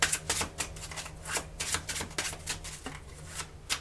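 Tarot cards are cut and handled by hand at close range, a quiet, quick series of papery riffling flicks and soft slaps in an irregular rhythm.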